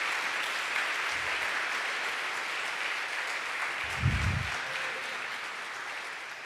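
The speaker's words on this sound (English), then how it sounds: "how about a nice round of applause for our students?" An audience applauds students after their presentation, a steady, dense wash of clapping that goes on throughout, with a couple of low thumps partway through.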